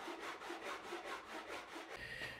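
A handsaw cuts through a wooden knife-handle blank, splitting it into two scales, in quick, steady back-and-forth strokes. The rasping is rhythmic and close.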